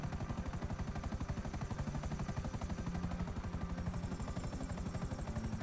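A helicopter flies in GTA Online on PS4, its rotor giving a loud, steady, rapid thumping drone throughout with no talk.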